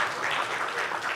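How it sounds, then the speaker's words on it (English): An audience claps steadily for a group chairman at a corporate financial results event, a dense wash of many hands applauding together at moderate volume. "We may have some clap for you. Clap for our Group Chairman."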